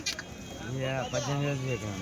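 Goats bleating at the Kadiri weekly goat market, a close, wavering, drawn-out bleat over a busy background murmur.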